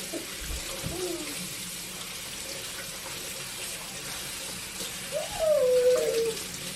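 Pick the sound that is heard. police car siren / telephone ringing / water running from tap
water running from tap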